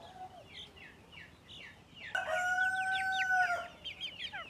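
On a fancy poultry farm in Pakistan, a rooster of pure Turkish breed crows loudly once, a long drawn call in the middle, while chickens cluck in short repeated bursts before and after.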